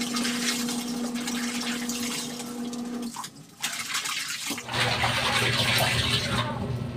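Rinse water runs and splashes steadily around bras washed by hand in a basin, loud and close, broken by a brief quieter pause before the gushing resumes.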